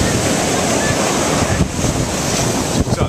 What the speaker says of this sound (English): did you see that wave?